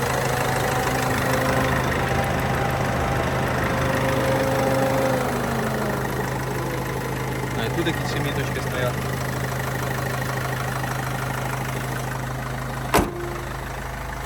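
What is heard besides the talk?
Opel Vivaro 2.0 diesel engine idling with air conditioner on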